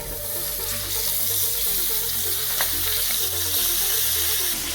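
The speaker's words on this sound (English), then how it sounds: "Leave a little grease in the pan and then put in your steak." Loud, steady sizzle of steak frying in a greased pan, an even crackling hiss close by with no talking.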